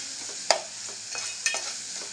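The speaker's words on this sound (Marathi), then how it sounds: "मसाल्यात टॅमेटो कांदा परतून घ्यायचा आपल्याला" Tomato and onion sauté with Malvani masala and asafoetida in a pan for a spicy drumstick dal, giving a close, steady sizzle with two sharp spoon scrapes.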